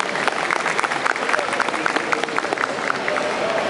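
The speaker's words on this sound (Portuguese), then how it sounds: "uma salva de palmas para ele, por favor" An audience at a Campus Party Brazil talk on games and brands applauds the speaker, a steady, dense wash of clapping from a large crowd that continues without a break.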